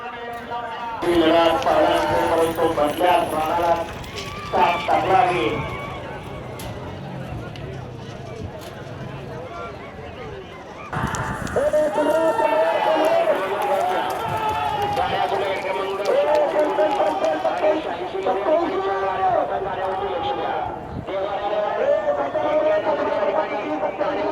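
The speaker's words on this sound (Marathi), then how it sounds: "आता आजची बैलगाडी शर्यत होती, तरी भरपूर गर्दी आहे." At a traditional bullock cart race near a hill in Pedgaon, Maharashtra, the rumble of running bullocks and hooves mixes with a large, noisy crowd, while someone speaks over the steady din throughout.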